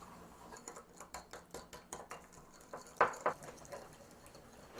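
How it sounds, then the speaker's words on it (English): Honey-sweetened pumpkin seed oil dressing being whisked in a bowl for a kale salad, a quick run of light, rhythmic metal-on-bowl ticks that stays faint and steady, then a couple of louder clinks near the end. "I just whisk that all together"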